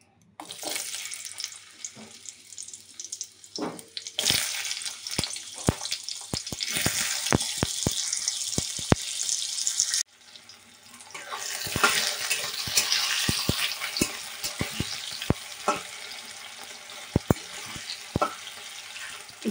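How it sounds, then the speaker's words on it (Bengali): Potatoes frying in hot oil in a wok, a loud hissing sizzle that flares up and breaks off halfway before resuming, with sharp clinks and scrapes of a utensil throughout, close by and without talk. "এবার আমি এখানে আলুগুলো ভেজে নিচ্ছি।"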